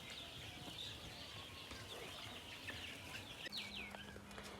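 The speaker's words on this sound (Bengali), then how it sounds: "পাশে দেখতে পাচ্ছেন একটি মুরগির খামার।" Chickens at a poultry farm cluck faintly at a distance, with scattered calls over a steady outdoor background hum.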